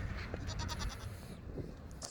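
Nigerian goat bucks bleat in short, rough bursts against a noisy outdoor background, fairly faint and somewhat distant.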